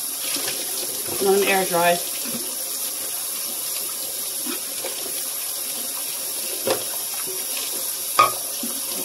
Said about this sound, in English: I'm gonna wash them